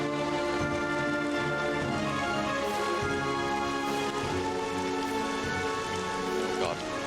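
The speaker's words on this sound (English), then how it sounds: "that rain's getting very loud." Heavy, steady rain pours down loudly and close, a constant dense patter drumming on a surface with no breaks.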